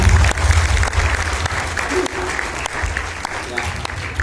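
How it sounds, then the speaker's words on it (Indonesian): An audience at an event claps in steady, enthusiastic applause that fills the whole stretch, with a few voices mixed in. "Boleh beri tepuk tangan yang paling meriah untuk teman-teman semua ya."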